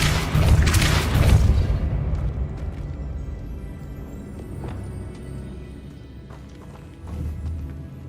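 Depulso force spell in Hogwarts Legacy, a heavy booming blast in the first two seconds that rumbles and fades into a low echoing tail, with a smaller thump near the end.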